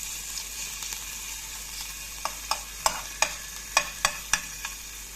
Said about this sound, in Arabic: هنجيب كده طاسه، نحط فيها معلقه زيت كده، وهنحط كده معلقه ثوم